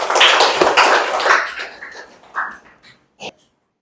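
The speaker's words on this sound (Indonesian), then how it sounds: "Jadi berikan aplaus dulu kepada Zaki" A small classroom group applauds briefly during a microteaching session; the clapping is close and fades within about two seconds, leaving a few scattered claps.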